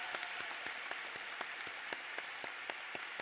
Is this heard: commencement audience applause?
yes